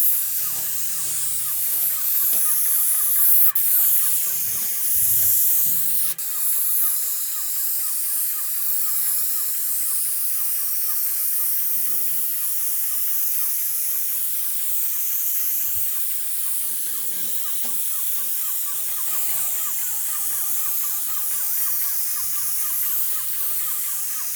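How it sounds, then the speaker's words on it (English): Steady hissing spray from an airless paint sprayer fitted with a spray gun extension runs continuously for the whole stretch, with faint clicks and handling noises underneath and no talking. "So I'm gonna show you what it looks like spraying this."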